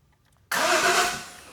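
A car engine with no drive belt fitted, only the lower pulley spinning, bursts into life after a moment of silence and runs loud and steady close by.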